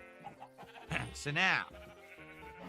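A sheep bleats loudly in the Minecraft video game, a single drawn-out, wavering call rising over background game noise while someone talks before and after it.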